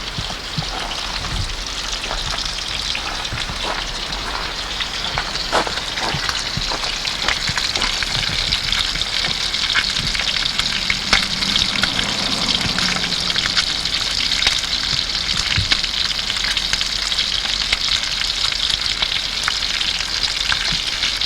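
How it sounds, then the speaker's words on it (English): Fresh trout caught about an hour earlier fries in a pan outdoors, giving a steady, loud hiss and crackle that runs continuously with scattered sharper pops. "you can get some frying."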